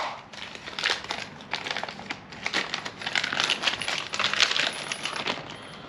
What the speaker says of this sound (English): Now you just get your bushings, open your package up.